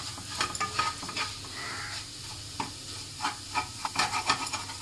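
Crab roast masala with coriander and chilli powders is sautéed in a pan, giving a steady sizzle broken by repeated scraping stirs close by, with no talking.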